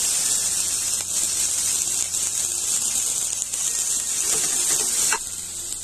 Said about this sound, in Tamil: ஒரு சின்ன வெங்காயத்தை அரிஞ்சு வச்சிருக்கேன், ஒரு நாலு பல்லு பூண்டு, இது ரெண்டுத்தையும் சேர்த்து வதக்கிக்கணும்.